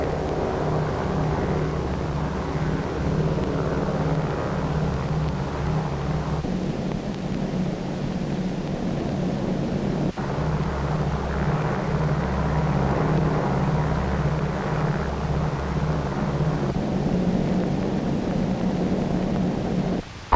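A heavy four-engine bomber, Dave's Dream, drones steadily with its escort of photographic, weather and instrument planes during the 1946 Bikini atomic test flight, a loud continuous low rumble with pulsing engine tones, alone and unbroken.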